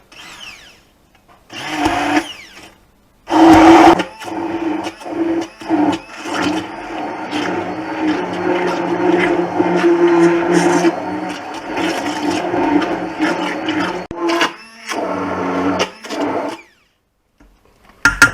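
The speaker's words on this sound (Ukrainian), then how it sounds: "тепер будемо перебивати його на блендер" A blender whirs steadily for about fifteen seconds, pureeing cooked zucchini, a loud continuous motor drone with short pauses at the start and a brief stop near the end.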